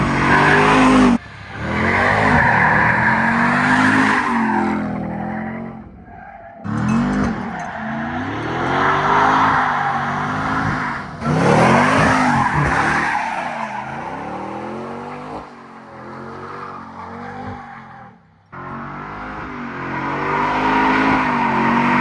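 A 700 hp drift truck slides along a winding European mountain road in Italy, tires squealing loudly in long repeated bursts as the engine revs rise and fall, with brief pauses between slides.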